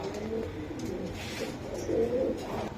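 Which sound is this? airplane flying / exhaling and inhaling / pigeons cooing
pigeons cooing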